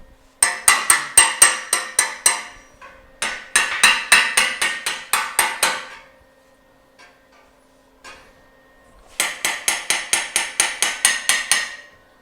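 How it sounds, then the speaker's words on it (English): A small hammer taps steel pipe in three quick bursts of sharp, ringing metallic strikes, roughly eight to ten blows each, close and loud, with brief quiet gaps between the bursts while the pipe is tacked and marked for bending. "get my little hammer"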